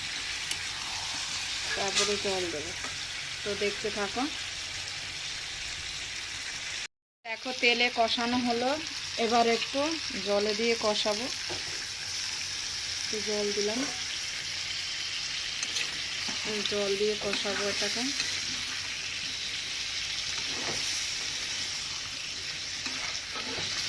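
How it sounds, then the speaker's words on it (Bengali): Chicken being sautéed and stirred in a pan during a Bengali chicken curry, a continuous close sizzle with scraping stirs, while someone talks over the cooking and a brief silent gap falls partway through. "এবার দেখো ভালো করে কষিয়ে নিচ্ছি"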